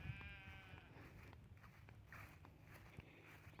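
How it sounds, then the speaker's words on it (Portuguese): A young sheep separated from its mother bleats once at the start, fairly near, followed by footsteps in flip-flops shuffling over quiet outdoor ground. "Uma ovelha que se perdeu da mãe."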